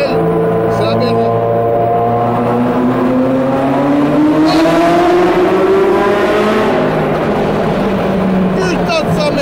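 A Ferrari F40 sports car engine roars loudly and continuously, its pitch climbing as it accelerates, with a harsh, rumbling growl throughout.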